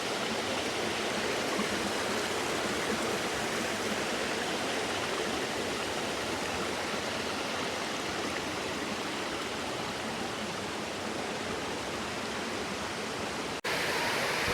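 A small waterfall on the trekking trail at Rampa Falls in Maredumilli roars in a constant, loud rush of falling water, heard alone throughout.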